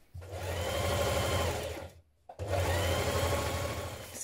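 Sewing machine running a seam with a 1.5 centimeter allowance on a ruffle dress, two long steady whirring runs of fast stitching separated by a brief pause, close and loud with no talking.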